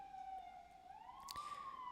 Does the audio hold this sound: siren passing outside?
yes